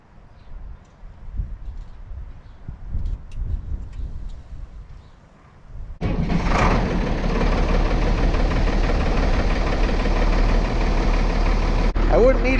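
International 1066 tractor, plugged in to warm it before starting, has its engine fire up after quiet background noise and settle into a loud, steady, knocking diesel idle close by that runs to the end.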